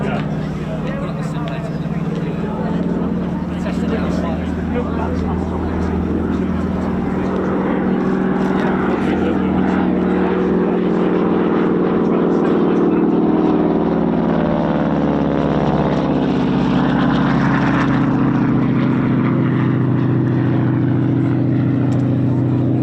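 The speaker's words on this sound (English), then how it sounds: "Final pass coming up then for the Harvard 4." A Harvard 4 propeller aircraft makes a final low pass at an RAF East Kirkby airshow, its loud engine drone swelling and shifting in pitch as it sweeps past.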